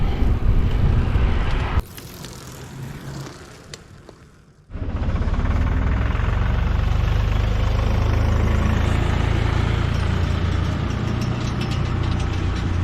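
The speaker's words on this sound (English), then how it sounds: "That's a fairly old tractor and baler." A fairly old tractor pulling a baler runs nearby in farmland along the Rhine, a loud low engine drone that drops away briefly, then returns steady and strong.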